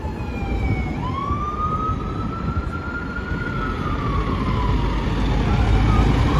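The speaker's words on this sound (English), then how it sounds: "Look, it's another ambulance stuck in traffic." An ambulance siren wails, rising and falling, as it sits stuck in Manhattan traffic over a steady rumble of city traffic, sounding moderately distant and continuous throughout.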